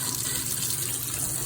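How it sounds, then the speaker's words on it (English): Warm water runs steadily from a tap over a shower head filter being rinsed, a continuous soft gushing hiss, no talking. "So it says to rinse both sides of the filter for 60 seconds with warm water."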